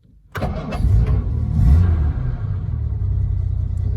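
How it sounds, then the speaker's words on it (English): A 1959 Jaguar XK150 fixed-head coupé fires up on the button, a sharp crank and catch followed by a loud, deep rumbling engine settling toward idle, close and alone. "we'll start her up and we'll just see how she runs"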